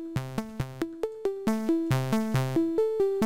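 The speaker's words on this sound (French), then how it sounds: "je vais vous faire écouter les oscillateurs sans réverb" Dry sine-oscillator synthesizer notes in VCV Rack, without reverb, play one after another in a quick, even rhythm, each with a sharp attack and quick decay, about a dozen in all.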